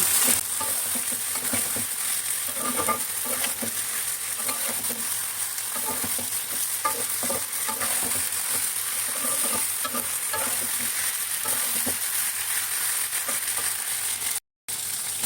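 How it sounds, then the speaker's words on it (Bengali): Mutton stir-frying with cumin paste, salt and spices in a pan for a mutton and potato curry. There is a steady, close sizzle with regular stirring scrapes, no voices, and one brief dropout near the end. "পরিমাণ মতো লবণ দিয়ে দিচ্ছি স্বাদ মতো দিয়ে মশলাটা মাংস ভালো করে"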